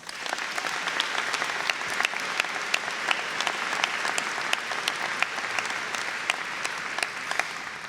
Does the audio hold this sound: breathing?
no